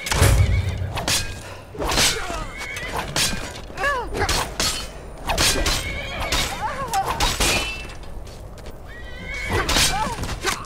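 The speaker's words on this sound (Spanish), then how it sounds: "El caballo se está peleando por ahí, ¿eh?" Repeated horse whinnies with clattering hooves and thuds as a horse fights in The Elder Scrolls V: Skyrim, loud and close, amid busy game sounds and occasional voices.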